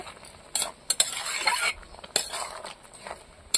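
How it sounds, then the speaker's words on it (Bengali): A utensil stirs fish curry with garam masala in a pan, producing scattered scrapes and metallic clinks against the pan's side over a soft background hiss. "গরম মশলা দিয়েছি, একটু নেড়ে নেব"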